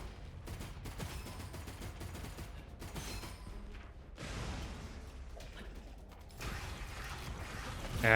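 Rapid gunfire in the video game Gunfire Reborn, bursts of clattering shots with mechanical clicks, moderately loud and continuous, swelling in several stretches, with no talking.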